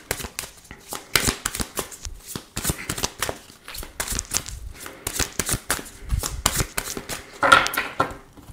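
A tarot deck being shuffled by hand, with quick crisp riffles and card flicks in repeated bursts, close and fairly quiet, with no talking.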